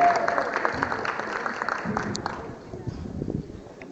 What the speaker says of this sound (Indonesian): sekali lagi beri tepuk tangan yang paling meriah untuk ketiga pembicara kita